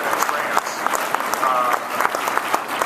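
An audience at a political talk on taxes and poverty applauds, a dense, steady round of clapping from a crowd with a voice speaking over it.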